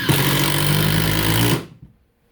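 A Makita XDT15 subcompact impact driver drives a beefy 2.5-inch structural screw, a loud, continuous rattling hammer burst of about one and a half seconds, close up, then stopping abruptly and going quiet.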